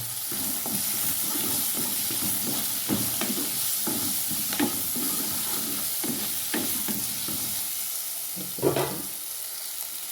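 Fresh curry leaves sizzle and crackle in hot oil while a Kerala-style kadachakka (breadfruit) chilli is being cooked, a steady close frying hiss with scattered pops and stirring clicks throughout.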